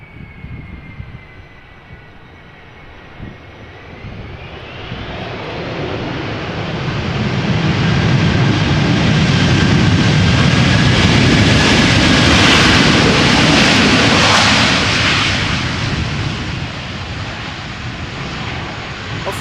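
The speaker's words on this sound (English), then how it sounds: "here is a Delta A330-300 arriving from Minneapolis." A Delta Airbus A330-300 airliner arriving at Amsterdam Schiphol swells from a distant whine into a loud, broad jet roar as it passes overhead, then slowly fades, with wind noise throughout.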